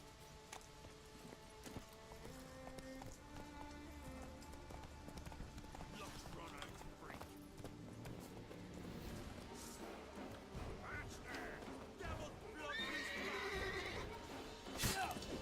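Geralt's horse Roach from the game Witcher 3 neighs and whinnies while its hooves clip-clop at a gallop, mixed with game music and a voice talking over it.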